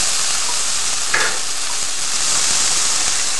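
Softened, lightly caramelized onions fry in a pan with fresh parsley and celery leaves, a steady close hiss of sizzling that keeps up without a break and has no voices over it.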